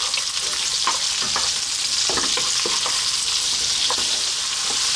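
Fresh green beans fry over lively heat in a pan, with a loud continuous sizzle throughout and the scrape and clatter of stirring breaking through at irregular moments.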